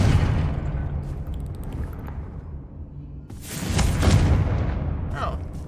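A Confringo explosion spell in the Hogwarts Legacy video game, a deep booming blast over a rumbling game soundscape, with a fresh burst and crackle swelling partway through and speech heard nearby.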